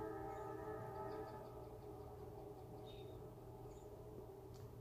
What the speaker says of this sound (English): shrill sounds of the train